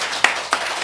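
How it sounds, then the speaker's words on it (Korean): A church congregation gives a few brief, sharp bursts of hand clapping, scattered and short rather than sustained. "여러분 박수로 영광을 돌리시기 바랍니다."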